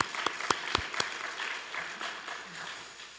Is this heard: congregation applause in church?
yes